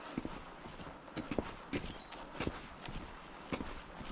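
Horses' hooves clip-clop in scattered, uneven steps on a rough hillside, with sharp knocks rising over a faint outdoor background and a thin high tone.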